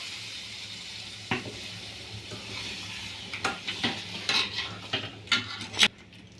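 Crab curry gravy is stirred in a pan, with a low simmering hiss under a series of irregular spoon scrapes and clinks against the metal, growing busier toward the end.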